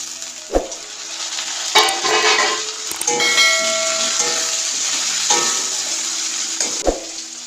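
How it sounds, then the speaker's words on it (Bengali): Spices and chopped tomatoes fry in oil for a broccoli curry, with a steady close sizzle and hiss punctuated by a few sharp knocks and scrapes of a spoon stirring against the pan. "তারপর বেশ খানিকক্ষণ ধরে নাড়াচাড়া করার পর দিয়ে দিচ্ছি কেটে রাখা টমেটো।"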